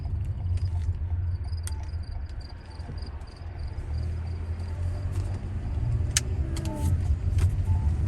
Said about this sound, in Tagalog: oh, yung jeep. Pampasayro na jeep.